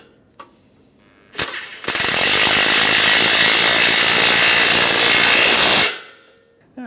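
A bolt is driven back into the A/C condenser of a 2007-2013 Acura MDX: a sharp click, then a loud, steady mechanical whir from a power tool lasting about four seconds before it cuts off abruptly.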